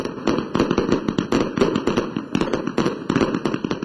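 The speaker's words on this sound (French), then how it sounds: "l'utilisation des pétards et autres feux d'artifice pour marquer le passage d'une année" Rapid, dense bursts of New Year's Eve firecrackers and fireworks crackle and pop in quick irregular succession, loud and close, with no talking.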